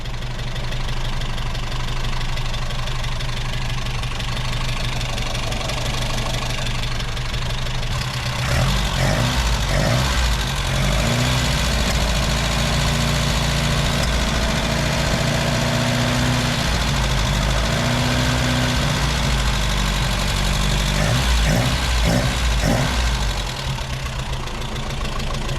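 Ford Escort MK2 engine idling with a lumpy, uneven tick, running steadily and close by the whole time, with a few heavier pulses partway through and no talking.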